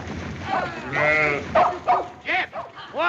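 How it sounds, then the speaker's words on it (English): Sheep bleat repeatedly as they are herded in a Western drama scene, several overlapping calls sounding close and wavering in pitch, with a dog-like bark mixed in. "get them sheep moving"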